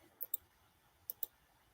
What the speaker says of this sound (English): you guys can't see what I'm typing